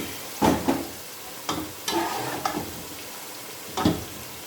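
Spinach dropped into a pan of frying mutton for palak gosht, giving a few distinct bursts of wet sizzling and stirring spaced apart over a steady background hiss, close by.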